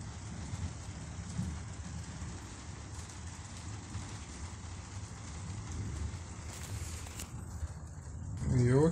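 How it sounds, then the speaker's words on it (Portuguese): Steady rain falls on a cabin, a constant close wash of patter that holds evenly throughout and swells slightly louder near the end. "curtindo o barulhinho da chuva aqui"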